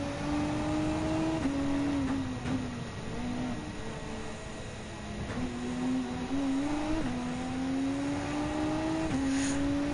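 Castro Mugen NSX 2000 race car in Gran Turismo 7, engine droning steadily and climbing in pitch through repeated gear shifts, each change dropping the note before it rises again.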